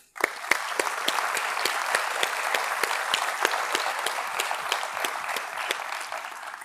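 Sustained audience applause at the Prémios Co-Inovação 2022 awards ceremony, a dense steady clapping from a large crowd that starts abruptly and holds loud throughout before tapering slightly at the end, with no talk over it.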